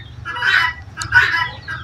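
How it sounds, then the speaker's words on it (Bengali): Free-roaming farm chickens cluck in a few short bursts nearby, with a low steady background hum beneath them. "এই জায়গাতে কিন্তু মুরগিগুলো কিন্তু ঘুরে বেড়ায়"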